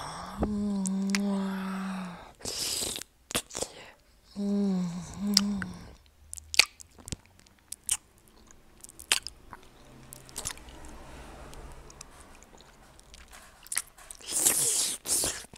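A person chews and bites food close to the microphone in an ASMR-style recording, with wet squishes, crunches and smacking, separated by short quiet gaps and a few louder tonal moments.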